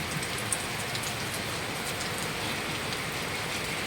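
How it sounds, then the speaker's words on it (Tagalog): Steady rain pours down, a dense, even patter of drops hitting surfaces, continuous and fairly close with no voices. "Salamat Lord sa ulan, Lord."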